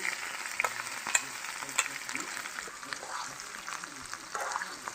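Quiet, steady sizzling of tempering spices in hot oil for ivy gourd chutney, with scattered crackles and pops, faint and close.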